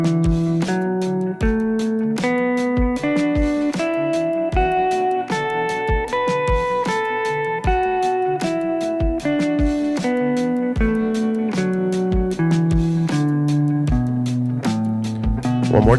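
Guitar runs a pentatonic scale shape up and then back down, a steady stream of picked single notes, each evenly spaced and close, with no voice over it.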